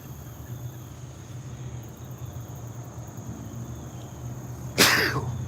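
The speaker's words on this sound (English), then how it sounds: "I don't have a sneeze button." A single sharp sneeze bursts out close by near the end, outdoors while picking tomatoes in a garden, over a steady hum of crickets and insects.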